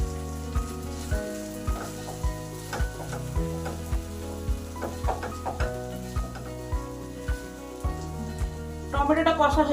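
Tomato paste made from three tomatoes sizzles in a pan of hot, fried spices for a rui fish posto curry, a steady close frying hiss with repeated stirring scrapes and a brief burst of louder crackle near the end.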